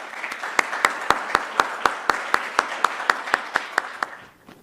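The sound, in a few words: audience applause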